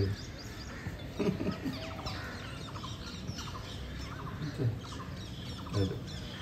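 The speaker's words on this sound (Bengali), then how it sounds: "এই জানলা এসে আমাদের কাঁই কাঁই করে টিয়া পাখিগুলো।" Parrots at a window give loud, harsh squawks in repeated bursts, close by, over a busy background.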